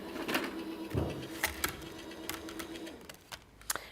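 A paper sandwich is pressed through a die cut and emboss machine, producing a steady low mechanical hum with a scatter of sharp clicks and ticks, close and alone.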